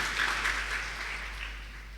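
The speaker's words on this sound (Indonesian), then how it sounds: "Tepuk tangan buat Tuhan Yesus Kristus." A church congregation at a Sunday worship service applauding, a soft blurred wash of clapping heard faintly over a steady low hum.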